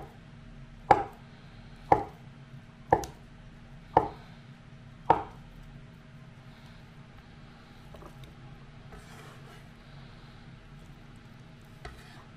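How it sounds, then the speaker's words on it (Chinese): A knife cuts tofu into small pieces on a board with five sharp, evenly spaced chops, then a pause and one faint final cut, over a low kitchen hum. "豆腐同样切成小块"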